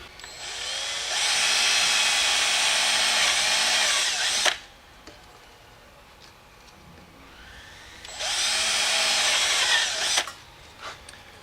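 A Porter Cable 1/2-inch cordless drill, heavily used for a year, whirs loudly for about three seconds, stops, then spins up again for another burst, with quiet handling clicks between runs.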